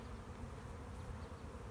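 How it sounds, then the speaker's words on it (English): Honey bees swarm around an open hive during a colony inspection, their dense buzzing forming a steady, close drone with no voices. "And these bees are very well tempered"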